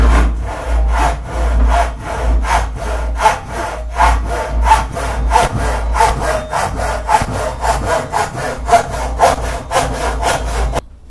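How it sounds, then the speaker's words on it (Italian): A GRÜNTEK Fugu Ryoba 300 mm Japanese pull saw rips along the grain of wood, giving a steady run of close, rhythmic rasping strokes, roughly two per second, with no talking over them. "andiamo a provare a fare il nostro primo taglio a vena, ricordandoci sempre di tirare verso di noi"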